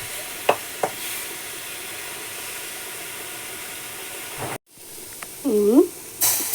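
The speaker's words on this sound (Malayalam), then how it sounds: "ഈ പൊടികളും ഇതും കൂടി നന്നായിട്ടൊന്ന് മൂപ്പിച്ചെടുക്കാം നമുക്ക് എണ്ണയിലിട്ട്" Spice powders and crushed ingredients frying in hot oil for rasam, a steady close sizzle and hiss with a few stirring knocks and a brief interruption partway.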